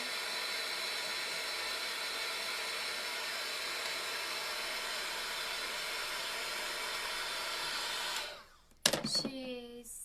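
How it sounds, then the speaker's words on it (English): A hair dryer drying a craft transfer blows with a steady hissing roar, close and continuous, then cuts off abruptly near the end, followed by a few clicks and handling noises. "when you're drying with a hair dryer or like I did with a heat gun"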